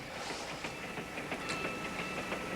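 Passenger train running on rails, a steady rumbling ride with faint rhythmic clicking under it, heard from inside without any talk.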